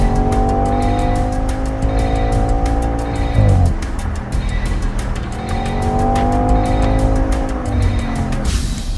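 A 2014 Audi RS5 driven hard on a rain-soaked track, its engine revving loudly through rising gear pulls with a sharp shift break midway, tire hiss and spray beneath, heard close and without talk.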